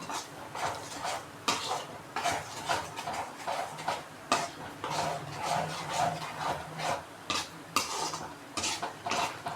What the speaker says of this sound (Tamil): இது மாதிரி கரண்டி வச்சு நீங்கள் கிண்டிக்கிட்டே இருக்கணும்